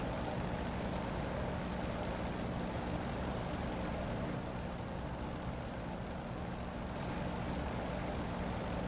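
A warbird aircraft in the DCS flight simulator drones steadily through a continuous broadband engine and propeller roar, even and unbroken, with no voices.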